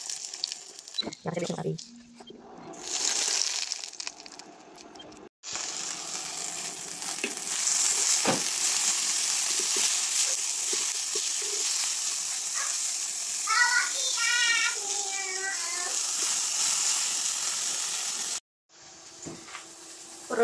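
Tomatoes sizzle and fry steadily in a pan while an English breakfast is cooked, a continuous loud hiss with brief pauses, with a person talking briefly over it.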